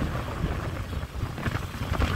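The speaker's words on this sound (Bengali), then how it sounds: "হালকা হালকা বৃষ্টি পড়ছে আর হাওয়া প্রচন্ড জোরে হাওয়া দিচ্ছে" Strong wind gusting and buffeting close by during light rain, a rough low roar that swells and dips, with no voices.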